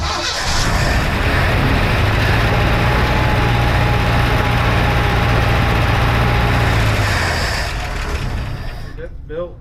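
1971 Chevy C10 pickup engine with a clogged muffler, running loud and rough at a steady idle throughout with a faint whine over it, close, while someone talks over the noise before it dies down near the end.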